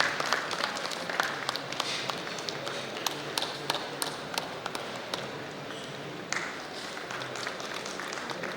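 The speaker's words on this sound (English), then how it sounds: "Can we please have a round of applause for our presenting partner," Conference audience clapping at an international healthcare event, a steady crowd applause with scattered sharper individual claps running throughout, fairly distant and even in level.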